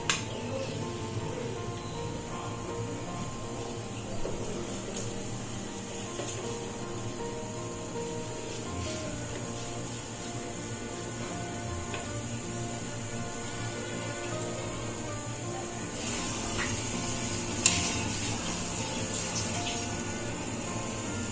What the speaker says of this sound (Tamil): இந்த அரிசி இதில் போட்டுக்கலாம்.